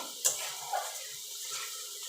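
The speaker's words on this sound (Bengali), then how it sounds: "এবার দিয়ে দেবো জল।" Water poured into a pan of potato and aubergine curry, a short splash followed by a steady soft trickle, close and fairly quiet.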